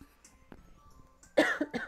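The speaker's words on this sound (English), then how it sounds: "Sorry, I had to cough." A single sharp cough near the end, close to the microphone, after a quiet moment with faint background noise.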